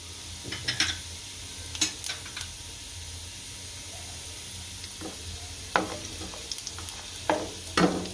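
Asafoetida and cumin sizzling in hot oil for a spring onion shaak, a steady close hiss punctuated by scattered sharp spoon clinks and stirring taps.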